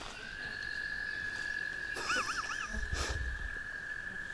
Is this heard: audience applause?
no